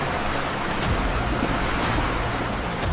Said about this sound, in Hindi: तेज हवाएं, लहरों का शोर